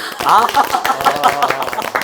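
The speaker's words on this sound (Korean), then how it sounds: "박수를 쳐야죠." An audience claps for a philosophy student who has just introduced herself on a Korean student panel. Loud, scattered hand claps mix with several voices talking and reacting over them, filling the short burst.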